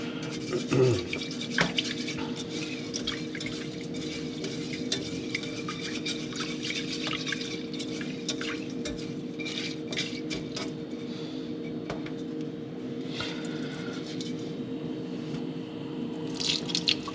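Running water rinses sushi rice in a bowl, with steady trickling and splashing as the grains are swirled and scrubbed, close and moderately loud, continuing for a long stretch without talk.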